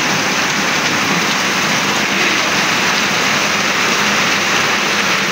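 Heavy rain pouring down near a house, a dense, steady, loud hiss of water falling with no gaps.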